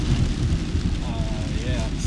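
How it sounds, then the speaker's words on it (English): Heavy rain, falling at about three inches per hour, pours in a dense, constant wash on a Skyline GTR during a long road trip, loud and close over the low road rumble of the moving car. "the rain is coming down at a rate of 3 inches per hour"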